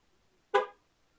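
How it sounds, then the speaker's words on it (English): A single short Chevrolet Impala horn honk, fairly loud and close, standing alone against near silence. "Now it honked."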